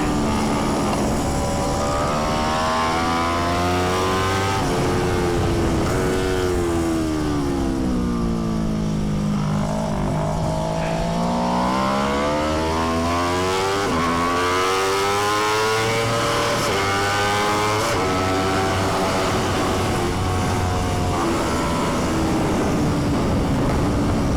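Aprilia RSV4 X-GP racing motorcycle engine on a race track, a loud continuous high-pitched wail that rises and falls through the revs as the throttle is worked and gears change, close and alone.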